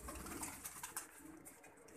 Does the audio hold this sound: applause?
no